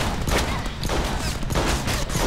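Shotgun fire in a Deadpool video game: dense, loud, continuous blasting with heavy booms that run on without pause for a couple of seconds, with no talk over it.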